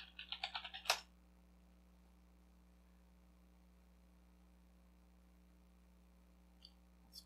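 Short burst of typing on a computer keyboard as a password is entered, about six quick close keystrokes in the first second, then a steady quiet hum with one faint click near the end.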